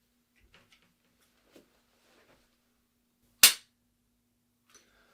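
A single sharp pistol shot cracks out during defensive shooting practice, loud and close, with a quick decay, surrounded by near silence and faint handling clicks.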